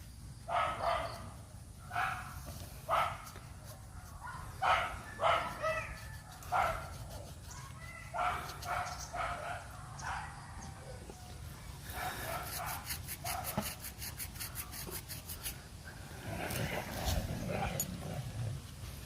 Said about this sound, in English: I don't understand these two dogs. They were so happy with each other. Now they want to growl and fight.